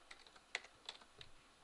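Someone types on a computer keyboard up close but quietly, a quick irregular run of light key clicks with a couple of firmer presses.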